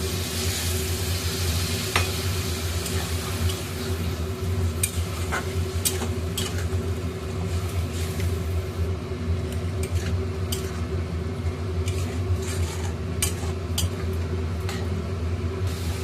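Egg curry masala with turmeric, chilli, coriander, cumin powders and salt sautéing in a pan, a constant loud sizzle under repeated sharp spatula scrapes, no talking.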